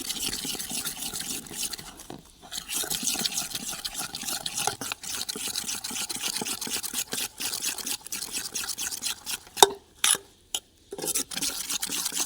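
Dhokla batter being stirred by hand after Eno is added, a continuous wet scraping and swirling of a spoon in a bowl, close up, with a few brief clinks and pauses near the end.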